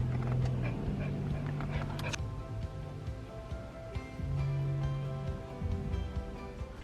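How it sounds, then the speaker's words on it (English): Dogs in a veterinary clinic waiting room, with whining, whimpering and yipping rising over a steady background hum and a nearby voice, in short bursts across the room. "You hear all the doggies?"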